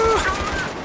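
A quick, brief rattle of rapid gunfire in Battlefield 3, close and moderately loud, lasting under a second.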